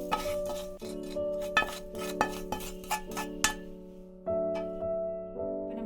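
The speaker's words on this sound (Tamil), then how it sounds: "இப்போ நம்ம தேங்காயிலே இந்த எள்ளை ஆட் பண்ணிடலாம்." Roasted black sesame seeds go into grated coconut and get stirred together for sweet kozhukattai, a run of about eight metal spoon scrapes and clinks against a pan before a quieter stretch over a steady background hum.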